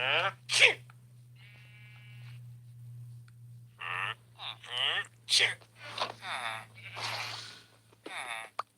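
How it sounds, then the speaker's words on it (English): A video game villager sneezes several times in short, sharp bursts, mixed with grunting villager murmurs over a low steady hum. "sneezing villagers are so cursed"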